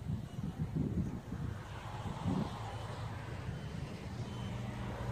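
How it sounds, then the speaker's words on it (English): Gusty wind buffets the microphone with low rumbling bursts during a late-night drone flight in worsening rain, steady and loud throughout, with no talking. "this rain seems like it's getting a little worse. And the wind as well."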